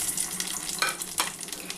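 Maggi noodles dropped into hot ghee in a pan, giving a short, close crackling sizzle with a few sharper bursts of spitting, with no one talking.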